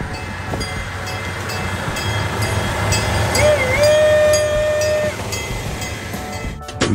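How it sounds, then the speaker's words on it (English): A train rolls past in Cologne, its steady rumble and rail noise running throughout with a rising, sliding squeal or tone in the middle, as a city crowd murmurs faintly behind. "Mom, watch out for the choo-choo train here."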